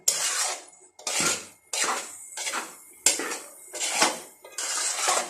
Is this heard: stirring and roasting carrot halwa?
yes